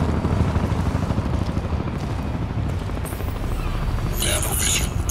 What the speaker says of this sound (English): Here we go with the fucking helicopters now.